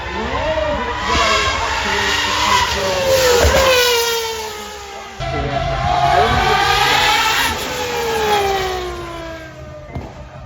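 A high-revving hypercar engine roars continuously racing uphill at Goodwood Festival of Speed, pitch climbing and falling through gear changes, loud and close with a brief break midway.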